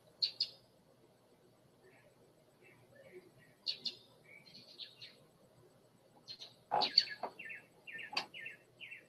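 Outdoor night ambience with scattered calls of night birds: short high chirps and a few sharper screeching cries, moderately distant, with low background noise throughout.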